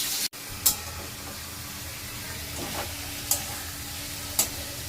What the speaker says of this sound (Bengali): এখানে মাছের মাথা দুটো আগে ভেজে নিচ্ছি